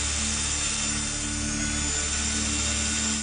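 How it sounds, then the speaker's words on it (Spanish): A drill spins steadily as it is brought toward a mobile phone, giving a continuous, even mechanical whine with a low hum beneath, loud and unbroken for the whole stretch, with no talking. "Y el taladro gira."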